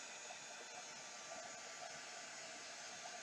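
A steady, loud blowing hiss of a heat tool drying chalk paint on a birdhouse, running continuously at close range, unchanging throughout.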